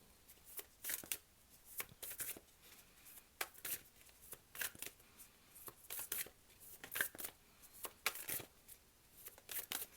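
Tarot cards are shuffled softly and steadily, with repeated quick riffling and flicking bursts close by and no talk.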